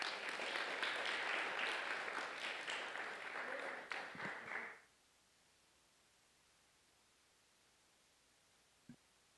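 Audience applause at a clinical research and engagement conference, filling the first five seconds at moderate level before breaking off abruptly into near silence, with a faint single knock near the end.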